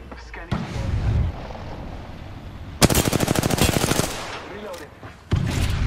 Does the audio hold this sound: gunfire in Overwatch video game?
yes